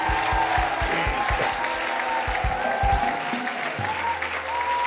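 Church congregation clapping during a Sunday service, a dense, loud, sustained round of applause with murmuring voices mixed in, easing off toward the end.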